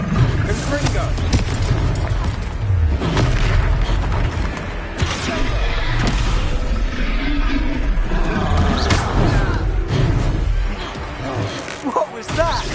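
A Confringo blast spell explodes during a boss fight in the Hogwarts Legacy video game, a dense, booming burst inside a loud, continuous mix of battle effects and music, with characters talking throughout.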